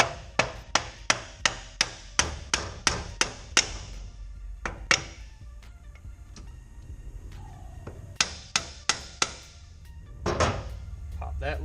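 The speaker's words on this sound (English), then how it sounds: "And just take a rubber mallet." Rubber mallet knocking the shifter loose on a Mustang T5 transmission: a rapid run of about a dozen sharp, close knocks, a pause with a few scattered taps, then another quick burst of blows.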